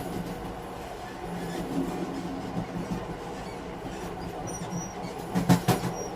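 A train running at night, a steady rumbling roll of wagons with faint clattering and a brief metallic squeal near the end, continuous and moderately loud.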